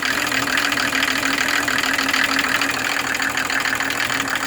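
A Mercedes OM603 turbo diesel engine drives a motor pump, running loud and close with a steady rough idle and an even mechanical clatter, with no voices.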